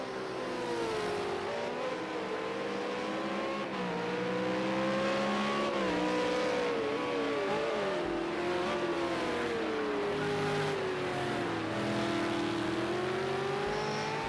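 V8 Supercars racing at Ruapuna Park in a video game, a steady simulated engine drone with rising and falling pitch through gear shifts and corners, continuous and even.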